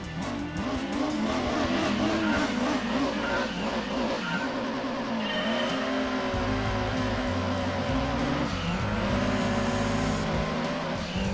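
A 1996 GT500 Castrol Supra race car in Gran Turismo 2 screams steadily at high revs, with the pitch rising and falling through gear changes. Tyres squeal now and then, and the engine stays loud and close all the way through.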